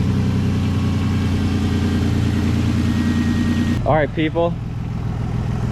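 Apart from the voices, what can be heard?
Nissan Skyline R32 car engine running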